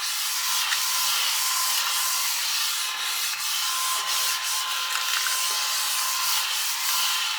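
A small vacuum cleaner sucking up metal swarf from a machinist's work on a 1/8 scale Pocher Porsche 917 model runs as a steady, loud, hissing whoosh the whole time, with faint rattles of chips and no talk.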